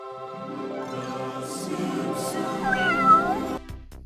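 A pet cat lets out a long, drawn-out meow that rises and wavers, loud and close, before ending in a short shuffle of movement.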